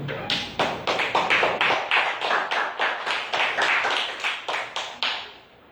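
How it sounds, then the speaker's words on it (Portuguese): A church congregation claps in unison at an evening service, sharp rhythmic claps at a steady beat of roughly three per second, close and clear, with no talk over them. "Vamos aplaudir Jesus"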